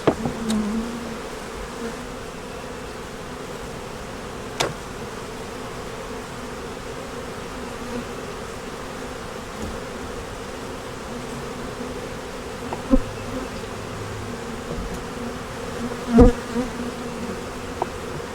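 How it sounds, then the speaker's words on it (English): Steady, dense buzzing of many honeybees close by in a hive, a continuous hum with occasional faint knocks. "Got a lot of bees in it."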